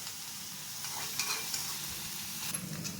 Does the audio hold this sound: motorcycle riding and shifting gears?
no